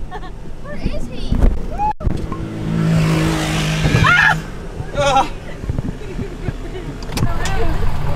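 Four-wheel drive truck driving off-road at an outdoor country festival, engine revving and surging up and down while people talk and shout nearby over the motor.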